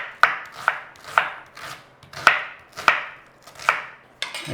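A knife chops onion into cubes on a board for a 1970s meatless stew, giving eight sharp, evenly spaced cuts with short decays, close and clear with no talking.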